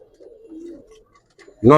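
Giribaz high-flyer pigeons coo softly in a low, wavering murmur, nearby and calm, followed by a sudden loud burst of a voice at the end.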